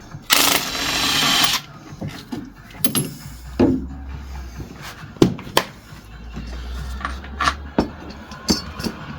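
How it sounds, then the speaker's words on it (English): A wrench works loose the last bolt during a clutch replacement on a VW Polo 1.2 TDI, with a long ratcheting rasp, then scattered metallic clicks, clunks and low rumbles of tools on metal close by. "Last bolt. It's coming loose now."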